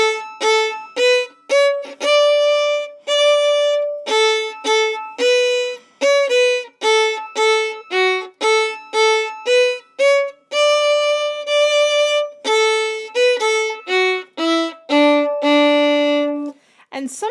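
A fiddle plays the B section of the tune "She Said She Couldn't Dance", a loud, close, solo line of short, separate bowed notes in a lively, even rhythm, with a few longer held notes, and no talking.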